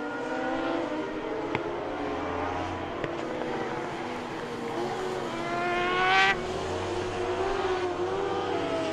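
Racing sidecar motorcycles scream past at the Sachenring circuit during a FIM Sidecar World Championship race, with high engine whine that rises and falls and one sharp pass-by surge near the end.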